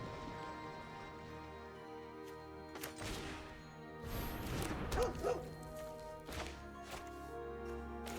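Dog bark sound effect in the card game MTG Arena as a dog creature card is played, a few quiet yips and woofs mixed with whooshing and crashing game effects over a steady musical backdrop.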